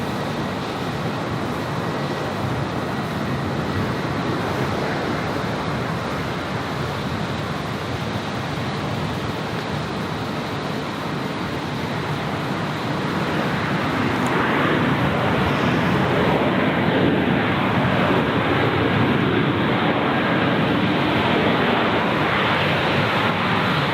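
A Jetstar airliner arriving at Gold Coast Airport makes a continuous broadband roar that builds gradually and grows louder toward the end.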